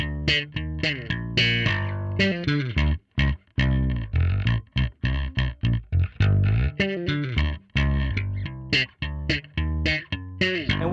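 Bass guitar with hyper-compressed lows blended with saturated, lightly compressed highs, playing a busy rhythmic rap-style line of short, punchy, gritty notes, dense and loud with no voices.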